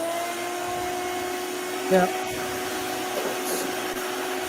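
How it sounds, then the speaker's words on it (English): A vacuum cleaner runs with a continuous, even whine and hiss close to the listener. One person speaks a single brief word partway through. "here I'm going to vacuum."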